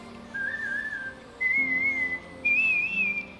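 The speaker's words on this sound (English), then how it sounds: "If you know me, you know that I whistle, like a lot, like a bird" A person whistles a tune alone in three clear, sustained phrases, each stepping higher in pitch, with short pauses between them, close and fairly loud.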